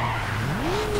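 A car in the Need for Speed: Underground racing game skids with a tire squeal that rises in pitch over a steady engine drone, brief and loud with no talk.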